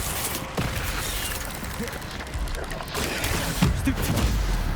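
Incendio fire spell cast during combat in Hogwarts Legacy: noisy bursts of magical blasts and crackling impacts, with a sharper hit near the start and another near the end, over a steady busy background.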